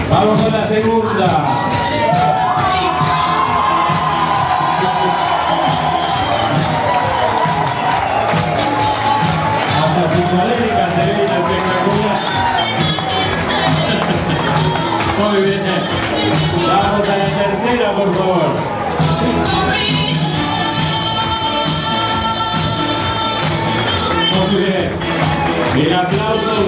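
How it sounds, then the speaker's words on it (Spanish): Dinner-party audience at an Italian community centre applauding and cheering to vote for a contestant, a loud, continuous roar of clapping, shouts and whoops over nearly half a minute, with swells and some background music. "Con el aplauso la van a elegir."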